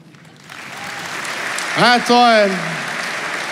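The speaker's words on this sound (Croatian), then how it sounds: "Ajde, aplauz," A stand-up comedy audience applauds in a live show, a moderate wash of clapping that rises after the opening moment and carries on to the end, with a voice speaking briefly over it partway through.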